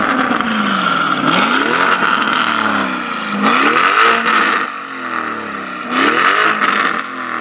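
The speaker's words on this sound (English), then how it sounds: "get a little bit more exterior sound clips for you guys." An 800hp RYFT-tuned Lamborghini Urus revs loudly from outside the car, sweeping up and down in repeated surges with a strong, close engine roar and no talking.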